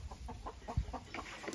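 A young Marans hen gives a string of short, soft clucks in a henhouse, evenly spaced, close by and fairly quiet, with one louder low thump partway through.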